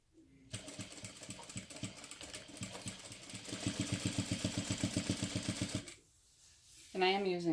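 A sewing machine stitches down the folded side of a crossbody bag at stitch length 4, running in a fast, even mechanical rhythm that grows louder midway, then stops; a brief voice follows at the end.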